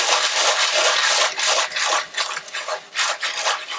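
Sandpaper rasps hard across a painting canvas in pressing circular strokes, a loud, close, continuous scratchy rubbing that swells and dips with each pass, no voices.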